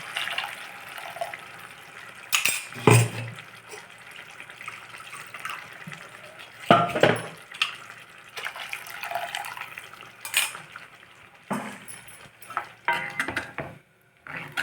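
Ground paste of coriander, coconut and fenugreek added to a brinjal tamarind curry, with intermittent liquid pouring, splashing and stirring sounds, pot and utensil knocks between quieter stretches.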